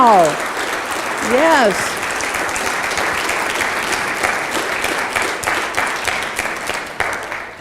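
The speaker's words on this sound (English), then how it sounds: "they need to have a round of applause" Loud, sustained audience applause at a software conference, steady clapping throughout with a brief spoken word and some vocal sounds near the start.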